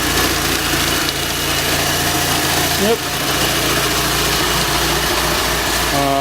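Mitsubishi Lancer EVO5 CP9A engine idling steadily and quietly, heard from outside the car, a low continuous hum with a brief voice over it.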